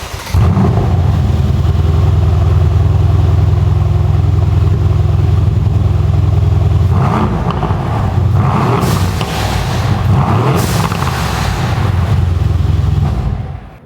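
A Mercedes-AMG C63 S on its stock exhaust, before new downpipes are fitted, revs loudly and close up, holding a steady drone then climbing through several sharp revs before settling.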